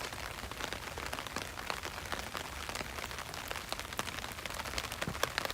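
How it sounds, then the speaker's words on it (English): Rain falls steadily on the Philosopher's Path in Kyoto on a spring evening, a dense, even patter of drops close by, with sharper individual drips ticking through it for the whole stretch and no voices. "the sound of the raindrops are pretty soothing"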